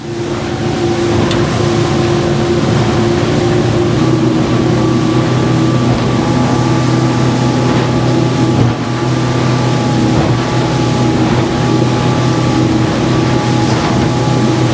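A Master 770W Chinese aluminium boat powered by a 400 outboard runs on open water, its engine a loud, steady drone with a constant hum and rushing water and hull noise throughout, no voices.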